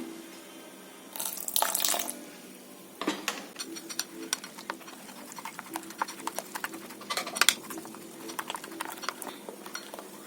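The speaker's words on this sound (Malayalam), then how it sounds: "കുറച്ച് വെള്ളം കൂടെ വേണം" Water is poured into chili bajji batter in short splashing bursts, followed by soft, irregular wet clicks of mixing nearby.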